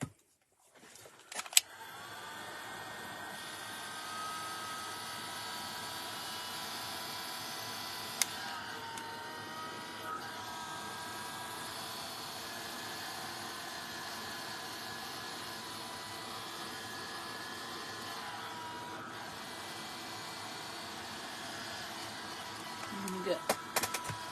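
A heat tool setting ink on an MDF mini journal page, blowing as a steady, droning whir that holds for over twenty seconds, close and even, with a voice talking over it.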